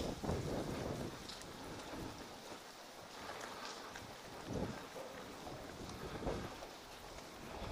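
Rain falling outdoors on the Isle of Man, a steady wash of drops with gusty surges, heard close around someone walking in a helmet.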